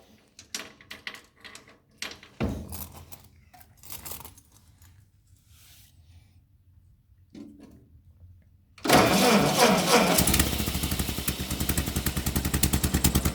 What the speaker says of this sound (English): Watch what happens when I light up the tractor.